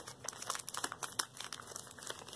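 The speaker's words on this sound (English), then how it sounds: "So I got some scissors. Let's just cut these bags open." Scissors cutting open plastic bags of Beyblade toys: close, busy crinkling and rustling with sharp snips and tears of plastic, steady and moderately quiet with no talking.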